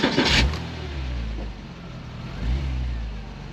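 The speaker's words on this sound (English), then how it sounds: "let me just start it up actually first so you can hear that it sounds beautiful" A 2008 Porsche Cayman's 2.7 flat-six engine starting up, a brief burst then a low, throaty idle rumble that swells slightly toward the end.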